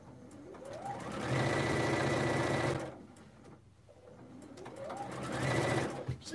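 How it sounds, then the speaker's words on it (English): Sewing machine running in two long bursts while stitching French seams on a pillowcase, a steady loud whirring motor with a pause between the runs, close and with no talk. "Just make sure you're not sewing any of this other pillowcase while it's underneath your foot."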